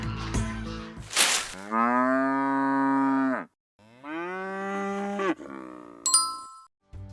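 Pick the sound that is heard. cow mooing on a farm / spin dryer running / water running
cow mooing on a farm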